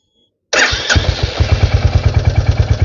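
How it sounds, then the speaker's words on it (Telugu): A Royal Enfield Hunter 350 motorcycle starts after a moment of silence, catching with a sharp burst, then settles into a loud, close, steady thumping idle with an even pulse. "సో నేను బైక్ అయితే ఆన్ చేస్తాను."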